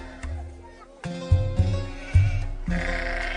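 Sheep bleating close by, several loud wavering calls in a row, one after another with short gaps and some farmyard noise between them.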